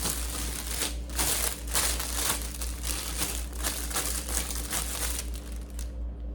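Steady close crinkling and crumpling of wrapping paper being folded and taped around a gift, continuous and dense, with a faint low hum underneath.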